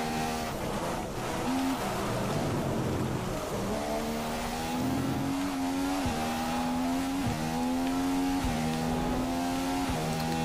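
A Formula 1 race car in the F1 2015 video game, driven through heavy rain, its high-pitched engine whining up and down through gear shifts over a constant hiss of spray.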